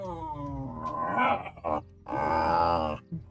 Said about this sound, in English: Jeez, my dog is making noises.